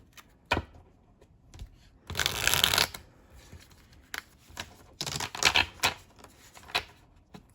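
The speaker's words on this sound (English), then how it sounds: "And I would shuffle the deck." Tarot cards are riffled and shuffled close by in two longer bursts, with scattered taps and clicks of handling in between.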